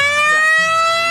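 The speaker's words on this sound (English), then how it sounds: "I can't hear you with the siren." A loud, steady electronic siren tone from a Gottlieb pinball machine, bright and buzzy with many harmonics, sounding continuously for about a second with a faint low murmur underneath.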